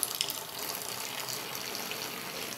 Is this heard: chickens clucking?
no